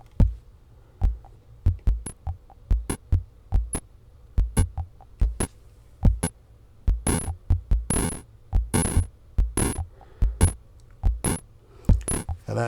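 ReverseLandfill CMOS logic noise generator module in a small drum synth setup, firing short sharp clicky noise bursts in an irregular rhythmic pattern over a low hum, some hits brighter and hissier than others.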